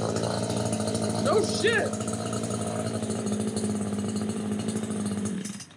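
An Echo CS 3510 chainsaw runs at a steady idle, its buzzing engine drone continuing throughout while someone speaks briefly over it, then cutting out at the end.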